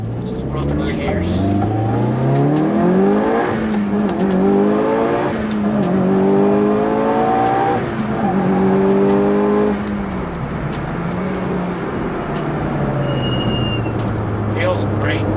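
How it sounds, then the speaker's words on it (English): A Mitsubishi Lancer Evo 9 with a short-throw shifter pulls through the gears, its engine note rising repeatedly then dropping at each upshift in a loud, close series of climbing revs that settles into steady cruising. "Just roll through the gears."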